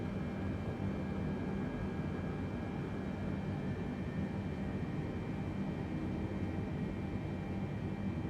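A Boeing 747-8 taxiing at Frankfurt airport in Microsoft Flight Simulator 2020: a steady, loud jet-engine drone with a constant low rumble and faint high whine, unchanging throughout.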